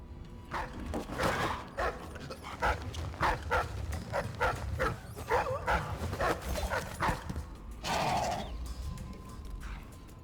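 Dogs in the video game Dishonored 2 bark in a rapid run of sharp, close yaps and yips, with a few whimpers toward the end.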